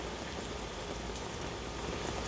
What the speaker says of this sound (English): it's raining and it's cold